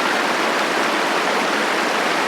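Steady broadband rush of a flowing stream at a campsite, close and loud, an unbroken wash of water with no voices.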